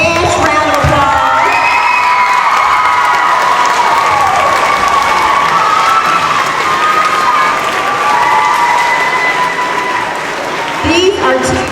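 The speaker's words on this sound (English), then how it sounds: "Everybody, let's give them our best round of applause." Loud applause fills a school award ceremony at Woodstation Elementary, with a crowd clapping steadily and children cheering and whooping throughout.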